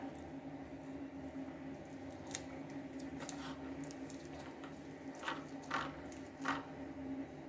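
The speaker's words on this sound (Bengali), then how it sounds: "কচুগুলোকে হাত দিয়ে আমি ভালোভাবে আগে মেখে নেবো আলুটাও মেখে নেব" Taro and potato being mashed and mixed by hand, giving soft, quiet squishing and patting with a few brief wet squelches near the end over steady low background noise.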